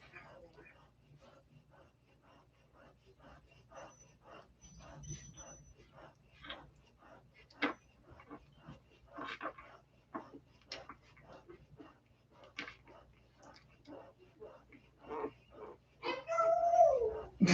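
Newborn black puppies whimper and squeak in a run of short, high cries that grow louder and busier toward the end, with some faint talking in the background.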